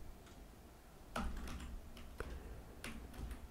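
Typing on a computer keyboard, a few sparse, close key clicks and taps scattered over a few seconds against a quiet background, with no voices.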